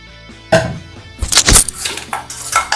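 Mutton is mixed by hand with salt and mustard oil in a metal pot, producing close clinks, knocks and squelching stirring sounds in irregular bursts.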